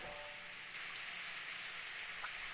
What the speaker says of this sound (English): I suddenly hear the sound of rain